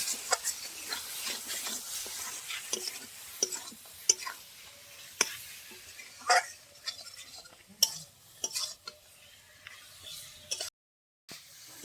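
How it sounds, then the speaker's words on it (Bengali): Fried potatoes being stirred into spice masala in a pan while cooking egg dhoka, heard as soft, scattered scraping and light clinks of a spatula against the pan, quiet and intermittent with brief pauses. "এবার আমি ভেজে রাখা আলুগুলো দিয়ে দিব, আলু মশলার সঙ্গে ভালো করে কষিয়ে নিব।"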